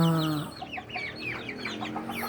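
Young birds in a brooding pen, ducklings mixed with Rhode Island chicks, give off a dense, continuous chorus of high chirps and peeps close by, with a low call at the very start.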